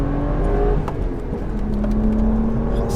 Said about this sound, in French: là je suis en cartographie sport, 4500 tours minute, pied au plancher